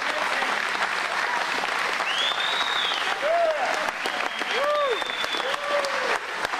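A standing ovation for two wrestlers fills the arena, with sustained loud clapping and crowd noise and a few whistles rising above the roar.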